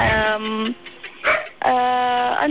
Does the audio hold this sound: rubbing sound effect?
no